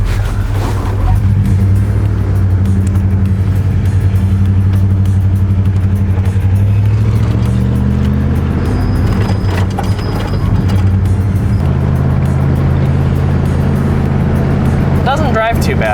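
A 2001 Dodge Ram 2500 project truck needing a front-end alignment and an O2 sensor, driving with a loud low engine drone that rises and shifts in pitch, plus rattles and clunks from the cab.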